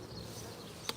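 Honey bees buzz inside a hive holding around 50,000 bees, a dense close drone that stays steady through the moment with one brief sharper tick near the end.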